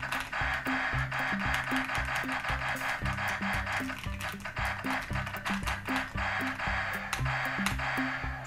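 Rapid, steady clicking of a mechanical RGB keyboard after its key sound mode has been switched, each keystroke triggering a short, tonal, synthetic-sounding click in a continuous rhythm.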